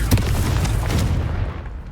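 A Confringo blasting spell explodes in the video game Hogwarts Legacy, a loud deep boom with rumbling crackle that fades over a couple of seconds, no voices.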